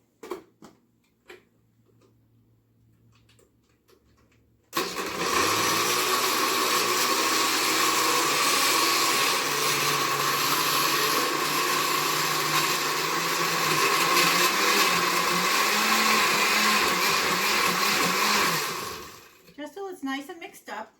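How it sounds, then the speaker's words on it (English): After some quiet handling noises, a blender roars loudly for about fifteen seconds blending salsa, its whirring pitch shifting as contents churn, then cuts off. "Now we're ready to blend it up."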